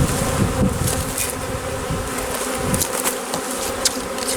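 Honey bees from a newly installed package buzzing in a dense, continuous swarm hum close by, with individual bees droning past now and then, no talk over it.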